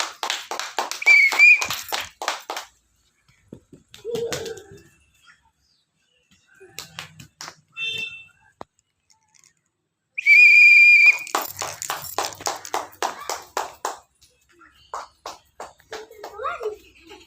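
Children clapping their hands during a game at an Anganwadi preschool, in quick rhythmic bursts of sharp claps, with shrill whistle blasts and children's voices between them.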